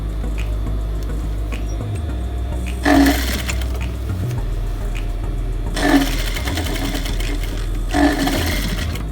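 A sewing machine stitches closed the opening of an elastic waistline, with a steady low motor hum broken by three short, louder bursts of rapid stitching, close and alone.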